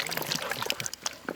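Curd poured over chicken mandi biryani in a short, uneven stream, splashing and trickling onto the food, close by with faint background activity.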